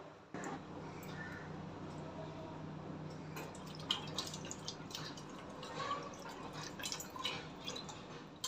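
Water splashes and drips close by as Bombay duck fish is rinsed, a steady wet sloshing with scattered small drops and no talking.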